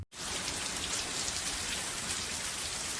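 Heavy, driving rain pours steadily and evenly on surfaces, a dense continuous hiss close by with no voices or thunder.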